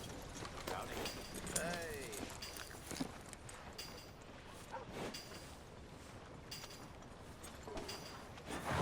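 Horse hooves clop along steadily in a Red Dead Redemption 2 scene, mixed with background ambience, a brief whinny-like sweep and occasional voices.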